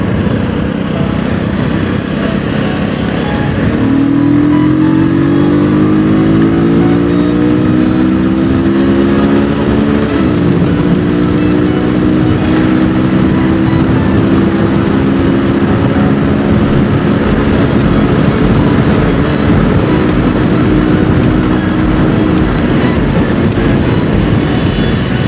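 A motorcycle engine rides loud and close throughout, its pitch rising through the revs, then stepping up and down as gears change without the clutch in race-style shifting.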